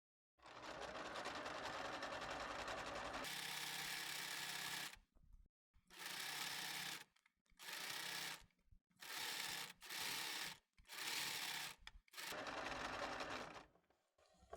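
Sewing machine stitching a knit T-shirt hem, a long steady whirring run followed by several short bursts separated by brief pauses, close and alone.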